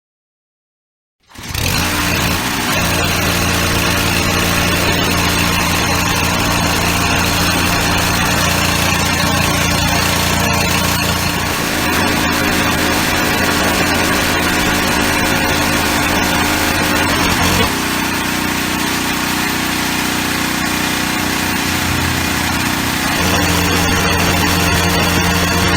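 A pressure washer, over 2,000 PSI, running while spraying under a car to wash off winter road salt: a loud, continuous engine drone that kicks in suddenly and holds steady, with shifts in tone as the spray moves.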